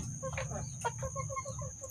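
A free-range village chicken with a snot infection clucks in a short series of soft, rhythmic calls near the listener, over a constant background hum and faint insect-like whine.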